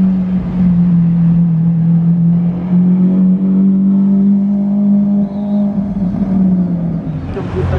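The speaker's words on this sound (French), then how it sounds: "J'entends une Aventador." A Lamborghini Aventador supercar engine drones loudly and steadily close by, holding a deep even tone with a faint rise near the end, amid a gathering of rare luxury cars.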